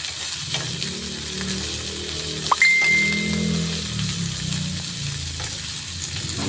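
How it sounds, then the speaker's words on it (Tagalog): String beans hiss and sizzle in a hot pan with squash and shrimp, a steady loud frying crackle with a metallic clink of a utensil midway, close up and without talk. "Halo-halo, gisa-gisa."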